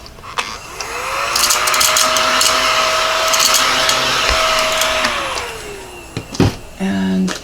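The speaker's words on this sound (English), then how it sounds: "let's get my little vacuum out" A small handheld vacuum cleaner whirs up, runs with a steady high-pitched motor whine for several seconds, then winds down, close by, followed by brief clatter.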